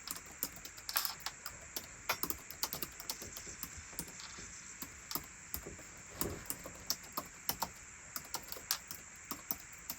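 Quiet, close typing on a computer keyboard, a steady irregular patter of light key clicks going on for several seconds with no talking.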